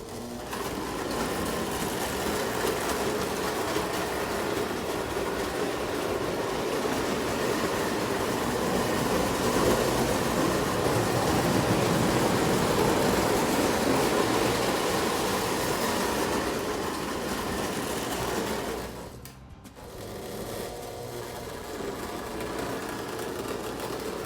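Marx tinplate toy train cars rolling along metal track make a continuous loud rumbling, whirring clatter that runs steadily for about twenty seconds. It breaks off briefly with a clunk near the end and then carries on.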